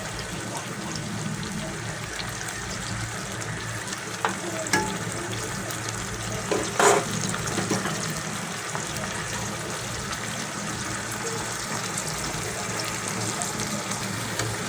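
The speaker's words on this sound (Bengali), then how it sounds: "এখন সবগুলি উপকরণ বন্ধুরা একসাথে কিছুক্ষণ ভাজা ভাজা করে নেব যাতে এর থেকে কাঁচা কোনো গন্ধ না আসে" Ginger-garlic paste and other ingredients for rui fish kofta curry fry in a pan, sizzling steadily with occasional stirring scrapes, close and continuous, with no talking.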